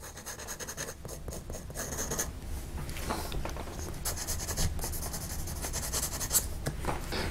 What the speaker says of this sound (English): We'll just do a little smoothing on my famous board here.